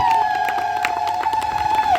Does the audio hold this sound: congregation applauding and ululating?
yes